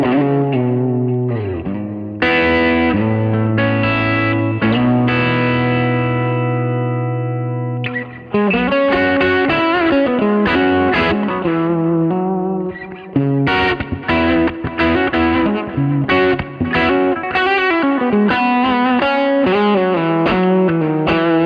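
Electric guitar on the bridge pickup through a King of Tone overdrive with delay, playing sustained chords and then busier melodic lines, loud and close with echoing repeats and no talking.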